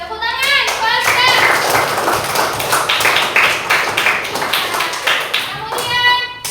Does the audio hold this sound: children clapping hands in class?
yes